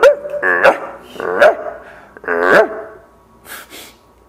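A dog barks three times in close, loud, separate yelps at home during an online class, followed by a couple of soft hissing breaths.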